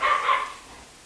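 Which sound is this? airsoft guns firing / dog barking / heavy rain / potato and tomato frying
dog barking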